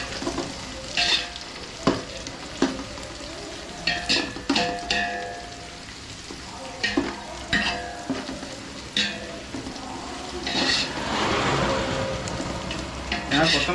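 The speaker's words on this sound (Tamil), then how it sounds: "கொத்தமல்லி புதினா வந்து நல்லா எண்ணெயில் வதங்கும் போது" Coriander and mint sautéing in oil with onions for chicken dum biryani, with repeated spatula scrapes and taps against the pot over a steady crackling sizzle that swells louder toward the end.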